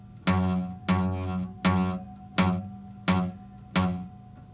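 Six evenly spaced plucked guitar notes ring briefly and dull out, the fretting finger not pressed down hard enough on the string, each attack close and clear followed by a quick, muffled decay.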